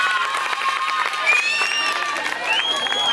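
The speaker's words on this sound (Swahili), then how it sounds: "Tuwapigie makofi" Students clap and cheer together at a school celebration, a brief burst of crowd applause with shouting and high children's voices over it.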